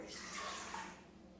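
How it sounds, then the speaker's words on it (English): Water poured into a stand mixer bowl for homemade soft pretzel dough, a short soft splashing rush that tapers off after about a second, close and fairly quiet. "we're going to add our water into our mixer"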